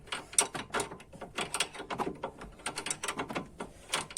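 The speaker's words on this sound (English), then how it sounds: "I'll just use a spanner." A spanner ratchets and clicks in quick, repeated bursts while tightening the nut on a Fiat droplink, close and fairly clear, with no talking.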